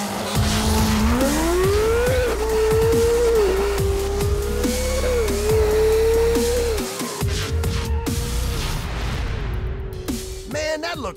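On a drag strip run, a race car revs and accelerates hard with a rising engine note through gear shifts, loud and near, with popping and crackle as it fades.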